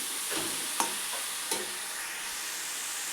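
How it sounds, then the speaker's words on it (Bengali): Carrots, raisins, cardamom and bay leaf frying in a pan for gajar halwa, with a faint, steady sizzle beneath a few sharp stirring clinks and scrapes, and no voices. "এখানে আমরা এখন গাজর, কিশমিশ, ইলাচি, তেজপাতা দিয়ে এটাকে একটু ভালো করে ভাজা করছি।"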